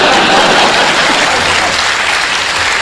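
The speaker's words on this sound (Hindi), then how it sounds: "और अब आपकी तालियां उठेंगी" Loud, dense audience clapping at a Hindi satirical poetry recital by poet Sampat Saral, a continuous close wash of applause lasting a few seconds without speech.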